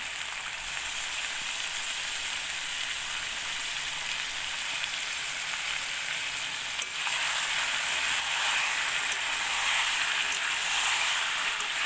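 Chicken frying in a pan with turmeric and chili paste, a continuous close sizzle that grows a little louder partway through, with no talking.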